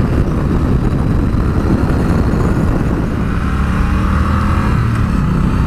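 Triumph Bonneville T120 motorcycle engine pulling hard on the road as it accelerates to overtake, a loud, steady roar with the pitch settling and a droning tone emerging toward the end, no talking over it.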